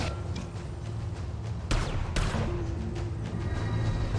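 Defense turrets fire in the video game Tower of Fantasy, a dense stream of rapid gunfire bursts over a steady rumbling backdrop, with two sharper, louder blasts in the middle.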